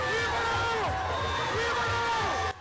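Jubilant crowd of old and young villagers in Koina welcomes President Barrow, with loud, dense cheering, whooping and ululating voices close by, sustained throughout before cutting off.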